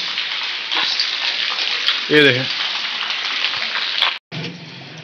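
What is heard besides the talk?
rain and rainwater in the street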